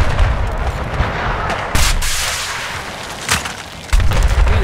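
Loud gunfire in the PC game Battlefield 4, with a few sharp shot bursts cutting through a steady noisy battle backdrop.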